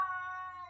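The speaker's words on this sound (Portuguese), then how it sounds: "Meu gato ali, né, gente?" A cat gives one short, steady meow, a brief, quiet tonal cry heard alone.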